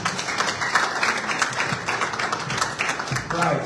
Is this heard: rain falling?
no